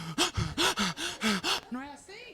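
A person imitates the rapid, shallow breathing of an anxious person: about seven quick, loud breaths in a fast even rhythm, close to the microphone, ending with a few voiced, gasping sounds.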